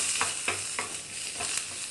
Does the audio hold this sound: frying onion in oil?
yes